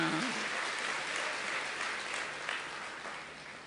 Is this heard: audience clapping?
yes